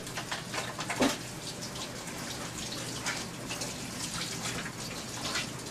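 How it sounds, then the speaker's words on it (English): Rolls of fiberglass casting tape soak in water, making a steady, close splashing and trickling wash with scattered drips and no pauses over several seconds. "So we're going to get it nice and wet."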